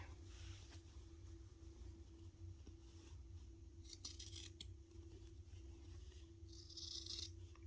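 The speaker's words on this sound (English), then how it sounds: "I'm going to fold the panel in half and then just cut along the center line just to get that started" Scissors cut along the center line of a folded handbag pattern panel with a few faint, quiet snips and crisp metallic clicks against a low steady hum.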